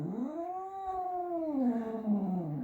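A cat gives one long, drawn-out meow that rises and then falls, close and loud like a plaintive caterwaul, with the sound bending downward near the end.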